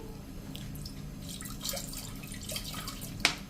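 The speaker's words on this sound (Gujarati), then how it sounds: "આપણે 1 ગ્લાસ જેવું પાણી મૂકશું" Water trickles and splashes into a pan on a gas stove, with small drips and a brief bright splash near the end over a low background hum.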